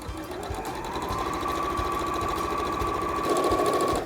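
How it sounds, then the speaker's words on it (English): A sewing machine fitted with a quarter-inch foot chain-pieces fabric strips sewn right sides together. It gives a steady, continuous mechanical whir with a fast needle rhythm, close and alone, running evenly throughout. "all you want to do is sew right sides together with a 1/4 inch seam"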